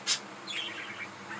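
Pet budgies chirping indoors: a sharp high chirp near the start, then a run of softer twittering calls over steady low room noise, with no talk.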